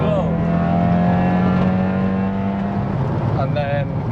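A 460 bhp hybrid turbo Audi S1 engine holds a loud, steady droning rev close by, then drops briefly before picking up again near the end, with a voice speaking over it.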